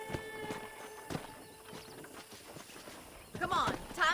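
Horse hooves clip-clop at a walking pace in the Red Dead Redemption game, a steady series of soft hoofbeats with louder clatter near the end, with a voice heard alongside.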